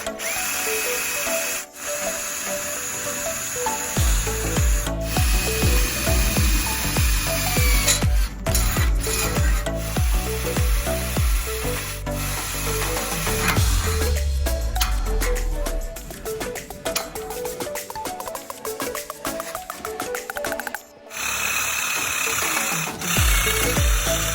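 A Hyundai HD 691 cordless battery drill whirs in repeated bursts, its motor pitch rising and falling as the trigger is squeezed and released, close and loud, with ratcheting clicks between runs.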